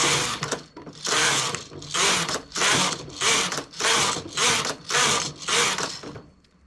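A domestic knitting machine knits rows of a double-band edge, its carriage swept back and forth in seven regular rasping passes about every 0.8 seconds, each a loud mechanical clatter with brief pauses between.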